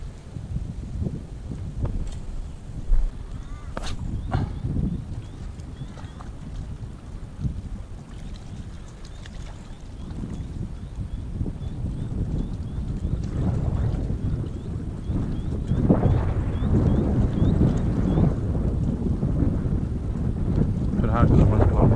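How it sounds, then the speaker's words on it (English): Strong wind gusts buffet the microphone outdoors on the water during a fishing trip, a steady low rumble that swells louder toward the end, with occasional voices mixed in. "Hard because the wind's blowing right at us."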